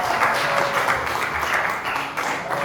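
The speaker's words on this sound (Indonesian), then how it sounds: "Oke, beri tepuk tangan untuk kelompok." A classroom of students applauds a group after their presentation, steady broadband clapping that fills the short moment with no break, close and fairly loud.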